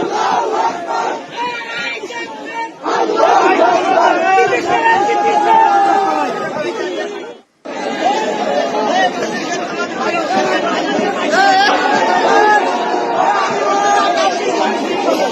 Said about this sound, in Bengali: গানের আসরে ধর্মীয় স্লোগান কট্টরপন্থীদের